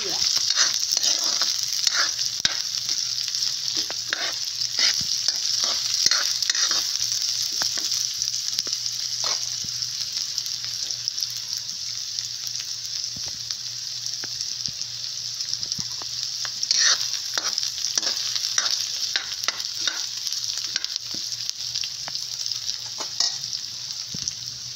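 Onion, garlic and ginger sautéing in a pan for a Filipino ginataang shellfish and crab dish, a continuous close sizzle broken by frequent scraping strokes of a spatula.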